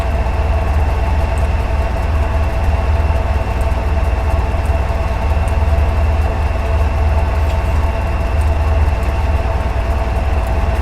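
A GP40-2 diesel locomotive in Train Simulator 2018 slows with its dynamic and independent locomotive brakes applied, producing a loud, steady low engine drone and rail rumble that holds constant throughout.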